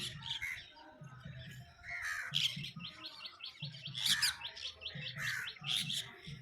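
Crows cawing and smaller birds chirping around a house with a small garden and banana trees in the morning, with repeated calls overlapping close by.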